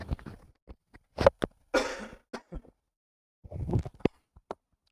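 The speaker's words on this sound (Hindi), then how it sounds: "थोड़ा सा खांसी वगैरह हो रही है मुझे" A lecturer who is unwell coughs and clears his throat in a series of short, close bursts separated by silences.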